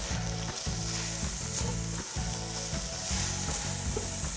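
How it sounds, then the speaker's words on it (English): Beef and macaroni with cinnamon and salt sizzle loudly in a single pot as a spoon stirs through them, with rhythmic scraping bursts over a constant frying hiss. "And then we're gonna give this a mix."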